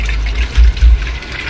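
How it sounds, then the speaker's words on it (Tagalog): Water pours into an electric kettle during a repair of its faulty automatic shut-off, a steady splashing rush with a few heavier gurgling surges, close by. "lalagyan ko siya ng tubig"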